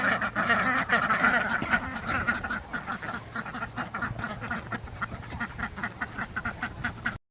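Turkeys on a homestead eat watermelon, berries, cucumbers and spinach, giving close, busy clucks and rapid pecking clicks in an irregular stream, loud and without talk.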